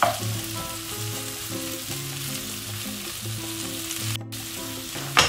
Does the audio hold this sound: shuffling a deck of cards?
no